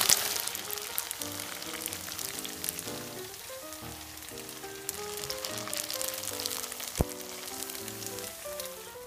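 Tofu frying in a pan until crispy gives a steady, close crackling sizzle with fine popping throughout, heard over soft background music.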